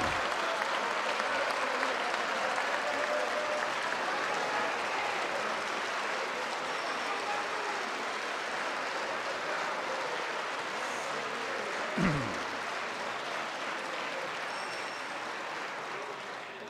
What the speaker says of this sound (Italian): Prego applausi.